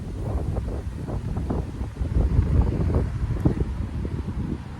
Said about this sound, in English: you see this wind?